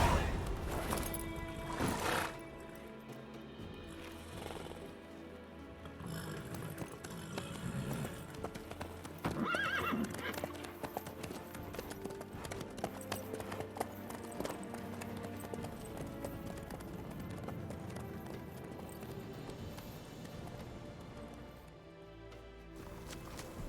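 Horse hooves clip-clop steadily in The Witcher 3, with occasional snorts and neighs over a dense game soundscape of movement, gear rattles and background music.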